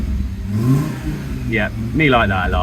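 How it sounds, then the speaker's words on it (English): Fiat Coupe 20v five-cylinder engine revving close by, a deep throaty rise in pitch under someone talking. "the 5-cylinder engine is a glorious sounding engine"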